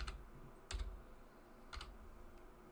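Two short bursts of computer keyboard keystrokes, close and moderately loud, separated by a second of quiet room tone with a faint later tap.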